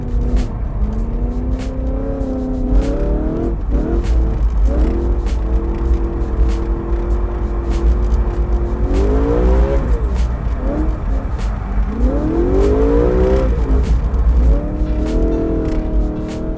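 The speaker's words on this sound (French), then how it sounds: "me prête sa M3 E92 pour faire quelques tours" BMW M3 E92 on a race track, the engine repeatedly revving and shifting through gears with sweeping rises and drops in pitch, loud and continuous from inside or near the car.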